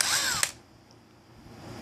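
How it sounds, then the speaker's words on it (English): A power drill with a drill bit bores a hole through a plastic card, a loud high whine lasting about half a second that stops abruptly, then quiet room tone follows. "and drilled me a hole through that card there"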